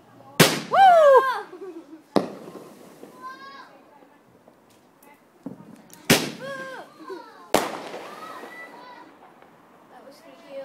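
Fireworks at a bonfire night go off in four sharp close bangs, each followed by crackling and whistling trails, with children's shouts and cheers between the blasts.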